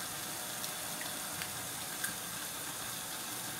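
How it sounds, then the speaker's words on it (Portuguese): Water being poured into a cooking pot in a home kitchen, a steady faint splashing rush with a few small clicks and drips on top. "Vou até colocar um pouquinho mais de água"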